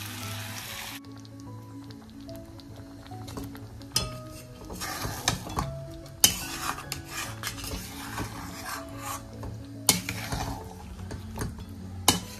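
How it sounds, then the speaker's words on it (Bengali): A utensil stirs cashew paste in a metal cooking pan while making donne biryani, with scraping and clinking in uneven strokes, several sharp clanks against the pan, close and moderately loud with no talking. "আর সাথে এটা একটু নেড়ে নিচ্ছি"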